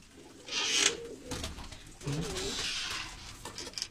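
Tumbler pigeons coo in low bursts close by, with some rustling and hissy background noise between the calls.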